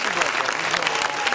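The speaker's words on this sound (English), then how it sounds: "One more round of applause." Audience applause for a college jazz lab band at a concert, dense steady clapping filling the whole short stretch with a faint voice underneath.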